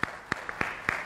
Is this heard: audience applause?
yes